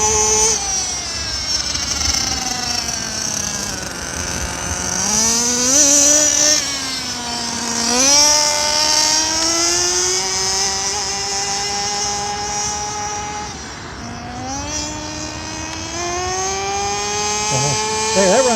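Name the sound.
HSP Lacerea 94763 1/8 scale nitro RC car speed run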